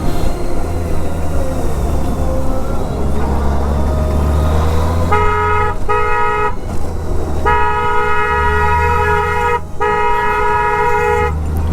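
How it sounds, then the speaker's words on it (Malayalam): A motorbike horn on a road in Uttar Pradesh blares in a series of loud honks, two short bursts followed by longer sustained blasts, over a constant engine and traffic rumble. "ഒരു ഹോൺ അടിക്കാണ്ടൊരു കുട്ടി മാറുന്നില്ല."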